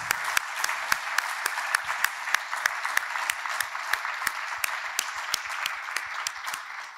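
An audience at a school speaker and panel event claps steadily in a dense, even wash of applause, with sharp individual claps standing out throughout.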